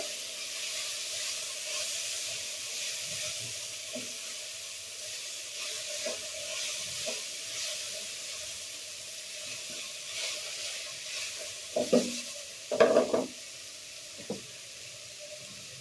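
Winter vegetable bhaji with turmeric and mixed spice powder fries quietly in a pan, a faint steady sizzle broken near the end by a few louder clanks and scrapes of stirring.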